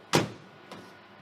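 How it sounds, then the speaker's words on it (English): An oven door shuts with a single sharp thud, followed by a faint second click a half second later in a quiet kitchen. "Close the door"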